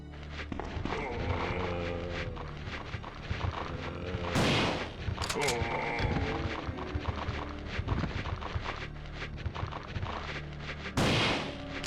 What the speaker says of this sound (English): this is a perfect candidate for the shotgun